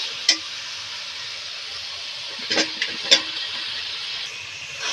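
Steady close sizzle of a spice masala frying in oil, fried potatoes tipped in with a few sharp clacks and scrapes over a constant hiss.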